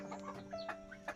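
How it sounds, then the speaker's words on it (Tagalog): Chickens clucking in short, scattered calls over a steady background hum, with one louder cluck near the end. "may mga manok siya"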